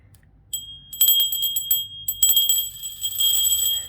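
A small bell jingles in quick, uneven bursts of shimmering metallic strikes, close and fairly loud, and settles into a sustained ringing toward the end, with no voices.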